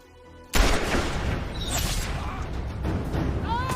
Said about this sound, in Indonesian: tiba-tiba ada seseorang penembak jitu yang bersembunyi dan langsung menembak kakinya